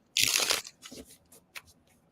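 A brief, close crisp riffle of tarot cards being shuffled, followed by a few softer rustles and taps, faint overall.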